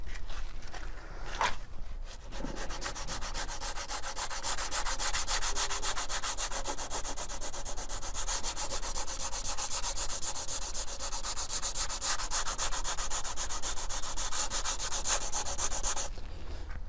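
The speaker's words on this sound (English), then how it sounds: "I'm going to start first with a bit of 80 sandpaper, and then we're going to move quickly onto the 180." Hand sanding of car bumper filler with 80 grit sandpaper, a steady close rasping scrub that runs almost continuously with only a brief pause early on and no talk.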